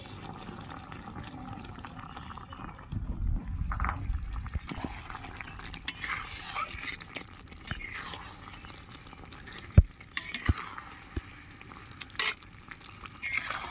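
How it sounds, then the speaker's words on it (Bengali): Cornflour slurry is poured into a pan of chilli jackfruit and stirred, giving a steady wet scraping and bubbling with soft sizzle, a few sharp spoon clicks near the end, and no talking. "2 চামচ কর্নফ্লাওয়ার গুলে নিয়েছি, দিয়ে দিচ্ছি।"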